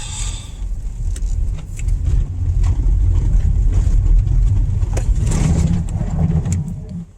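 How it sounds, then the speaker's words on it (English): A 2004 Toyota Sienna AWD van brakes hard on a gravel road, with a loud, steady rumble of tyres crunching over loose stones and engine noise throughout, swelling slightly midway and easing off at the end. "here is a gravel road braking test."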